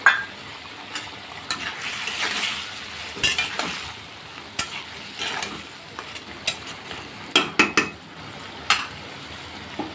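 Eggplant cooks in a pan of oil alongside fried potatoes, with soft steady sizzling under repeated scraping and clinking stirs of a utensil against the pan.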